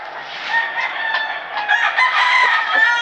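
A rooster crows loudly and close, a long drawn-out call with a few clucking notes mixed in, no voices.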